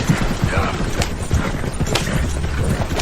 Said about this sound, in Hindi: और जब घोड़ा गाड़ी उसकी नजरों से ओझल होने लगी